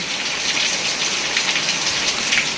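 Heavy rain pours down steadily in a village among trees, a loud, continuous close hiss with no talking.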